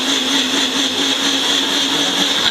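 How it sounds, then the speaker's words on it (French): A small blender whirs steadily while mixing a whey protein shake, a loud continuous motor drone with a high whine that holds evenly for a few seconds, close up, with no voices. "pour préparer votre petit shaker de whey, vous pourrez utiliser ce petit mixeur"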